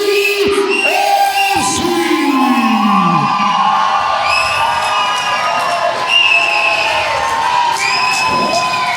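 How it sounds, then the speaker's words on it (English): A wrestling crowd at a tag-team fatal four-way match cheers and yells loudly and continuously, with whoops and children's shrieks rising from the packed audience. "I can figure out pretty well who the crowd is cheering for."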